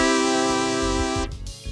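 Sega Genesis FM synth voices from the video game sound chip, composing music for Altered Beast. A loud, bright, buzzy sustained tone with a low pulsing bass beneath shifts abruptly partway through.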